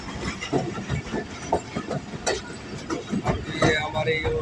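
The Khal Express passenger train moves through a city, its rumbling wheels and clicking rail joints carrying steadily beneath someone speaking in Urdu over the top.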